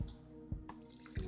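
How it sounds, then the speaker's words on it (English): Water running and splashing into a small elephant-shaped watering can at a sink in a video game, faint short trickles and drips with a few soft splashes. "Theo strides over to the sink and starts to fill the little elephant with water."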